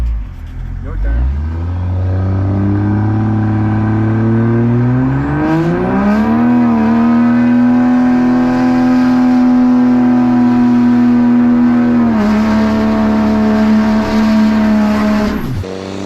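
A modified truck engine held at high revs, loud and close, climbing in pitch and sustaining a strained whine before dipping briefly and holding again, ending abruptly.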